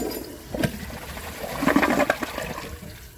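Kohler Cimarron one-piece toilet flushing during a bowl rinse test, a brief close rush and gurgle of water that swells and fades within a few seconds, no voices.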